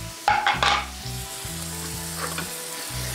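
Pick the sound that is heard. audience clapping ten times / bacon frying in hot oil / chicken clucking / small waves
bacon frying in hot oil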